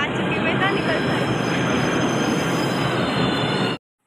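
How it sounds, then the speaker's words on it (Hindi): Delhi Metro train pulling into a station platform, a loud continuous rumble of rolling wagons and wheel squeal filling the whole stretch before cutting off abruptly. "और हमारी मेट्रो जो है आ चुकी है, अब हम चलते हैं अंदर।"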